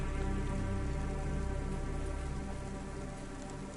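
Steady, dense rain pattering on surfaces in the cyberpunk city of the video game CloudPunk, a continuous close hiss with no other sounds.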